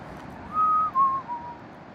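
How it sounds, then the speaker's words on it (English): A person whistling a short tune outdoors at a sunrise beach on Pawleys Island, three sustained clear notes gliding slightly downward over about a second, close and distinct above faint background noise, with no speech. "So I'm gonna hum and whistle."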